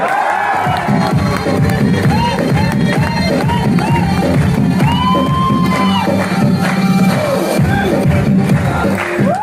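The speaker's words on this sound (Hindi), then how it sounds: "दोनों हाथ ऊपर करके तालियां हो जाए" A large audience at a company anniversary gathering in Bhopal claps and cheers with raised hands: dense, sustained applause mixed with whoops and shouts, loud and close, continuing unbroken throughout.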